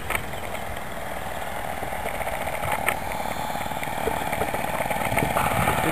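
The small diesel engine of a Bowden Mouse model biplane runs with a steady buzzing drone, fairly close and even, rising slightly toward the end, with no talk.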